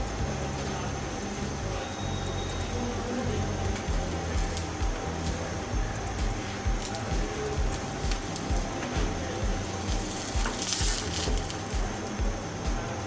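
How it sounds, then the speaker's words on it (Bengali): Bread pizza frying in a pan, a continuous close sizzle with scattered crackles and pops that runs unbroken for the whole stretch, with no one talking. "ওকে, এটা একটু শক্ত করে ভেজে নিতে হবে একটা পার্ট।"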